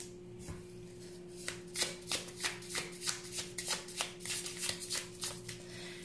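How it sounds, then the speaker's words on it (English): Tarot cards shuffled and pulled from a deck, giving a quick series of crisp riffling flicks and slaps that are close and clear, with no speech. "So I'm pulling a card for the past"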